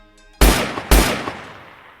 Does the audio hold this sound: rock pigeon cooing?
no